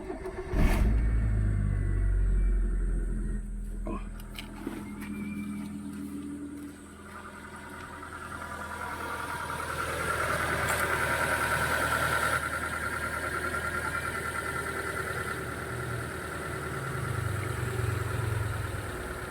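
A vehicle engine starts with a loud low burst, then settles into a steady idle as it warms up, running close by and alone throughout.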